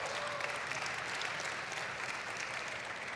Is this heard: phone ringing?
no